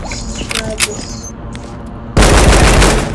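Gunfire from a gun in the Roblox zombie shooter Contact A-888, fired at a firing range, with a few sharp cracks early on and then a sustained loud burst of rapid automatic fire in the last second, close and dense.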